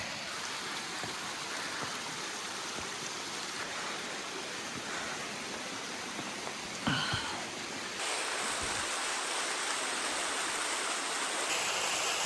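Rainwater pours down a soaked mountain route on the Crestone Traverse, a continuous broadband rush of running water, steady and close, with a brief knock midway and a slight rise in level toward the end.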